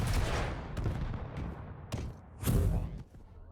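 Railgun and rocket fire in a fast Quake match: sharp blasts and booming explosions come in quick succession, loud and close, with a couple of strong hits standing out over a busy background of game noise.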